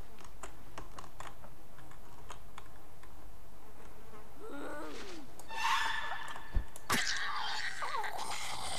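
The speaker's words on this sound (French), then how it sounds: "On va commencer à avoir des mouches." Flies buzz in the zombie survival video game Project Zomboid. A soft insect drone is scattered among rapid keyboard clicks, with a few louder bursts of game noise near the end.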